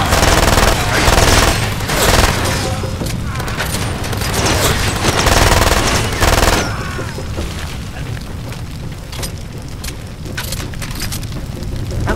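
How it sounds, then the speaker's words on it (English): Rapid machine pistol fire and booming blasts from a Far Cry 2 firefight, loud and dense in the first six seconds, then thinner scattered shots and rumble. "Little machine pistol"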